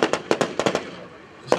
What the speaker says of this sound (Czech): Byl hlášen kontakt na 5. hodině, dochází okamžitě k vedení palby v daném směru.